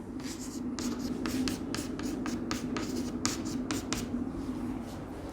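Marker or chalk strokes writing out a displacement vector during a physics lecture, a rapid run of short scratchy strokes, close and clear, with no talking.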